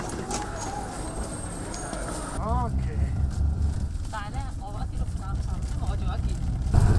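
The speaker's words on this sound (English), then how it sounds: "we climb into a local motor tricycle for the 10 yuan" A ride in a local motor tricycle through the streets of Xian, China, with steady engine and road rumble close by, street bustle around it and people talking in the background throughout.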